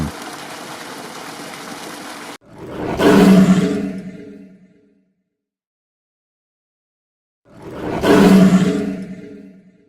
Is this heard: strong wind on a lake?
no